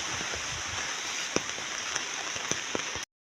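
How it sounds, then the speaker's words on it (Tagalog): Steady rain falling on a surface, a constant dense hiss with a few louder drips and drops standing out, close and without talking, ending abruptly. "Ulan na."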